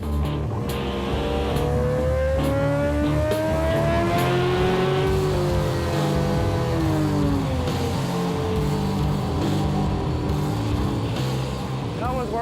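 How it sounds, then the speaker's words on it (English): A superbike engine on a dyno revs hard and loud, climbing and falling in pitch in long sustained pulls, with a voice talking over the engine noise. "the crew heads to the official series dyno to test the effect the mapping changes have had on the"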